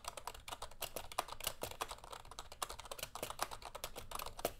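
Rapid, soft-edged keystrokes tap on a Redragon K512 Shiva membrane keyboard, four years old, in a quick, irregular rhythm, close and fairly quiet.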